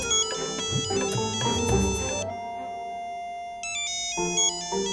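An electronic phone ringtone plays a bright, repeating melodic pattern, close and clear, with no one speaking over it.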